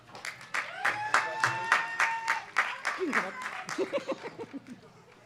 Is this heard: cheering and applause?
yes